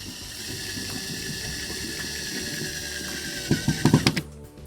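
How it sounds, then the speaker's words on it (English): Screw being driven to mount a track, with a quiet steady mechanical ticking that ends in a short run of louder, close ratchet-like clicks. "I'm going to put this middle screw in."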